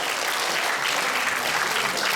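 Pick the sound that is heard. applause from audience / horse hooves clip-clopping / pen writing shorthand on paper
applause from audience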